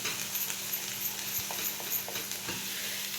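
Spice masala sautés in a pan with a soft, even sizzle. Faint, occasional spoon taps and stirring scrapes sit over it, and there is no talking.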